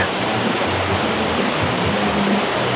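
A dense, steady roar of a waterfall in the Philippines, heard up close as an unbroken rush of falling water with no voices over it.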